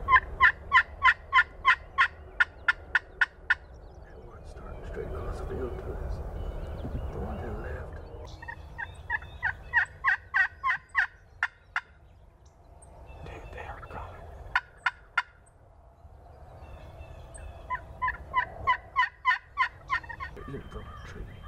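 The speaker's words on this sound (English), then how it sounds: "There's a turkey fixing to walk right by." Wild turkeys gobbling outdoors in repeated rapid rattling bursts, loud and fairly near, with quieter stretches of outdoor rustle and faint low murmuring between calls.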